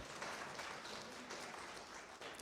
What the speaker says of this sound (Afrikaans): Kom ons gee ook net 'n hande klap